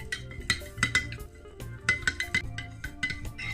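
Scented rice water, with added oils such as peppermint, is stirred in a container for a hair treatment. A utensil makes quick, uneven clinks and taps against the container, close and fairly crisp, with no talking.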